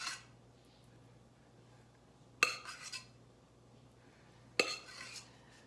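A spoon scooping filling from a pot onto cake layers: two sharp metallic clinks against the pot, each followed by brief scraping, well apart, close and clear against a quiet background with no voices.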